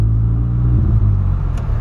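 Engine rumble from a Volkswagen Polo fitted with a sport exhaust, a loud, steady low drone close by with a slight rise in pitch partway through.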